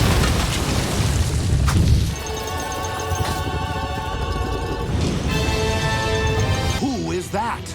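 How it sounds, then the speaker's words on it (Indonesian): A deep boom from an explosion in the animated Kung Fu Panda film, a loud low rumble in the opening seconds, followed by swelling orchestral music and whooshing effects. "tidak disangka ada ledakan dan muncullah Tauti dengan robot mesinnya"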